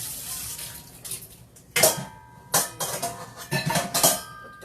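Running water splashes as an item is washed under a kitchen tap, with uneven bursts of spatter and some light clinking, close by and moderately loud.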